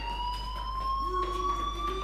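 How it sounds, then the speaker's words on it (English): A fire alarm rings in the video game Life is Strange, a steady electronic tone with layered harmonics that holds loud and continuous throughout, with a second lower tone joining partway through. "Hey, do you hear that fire alarm?"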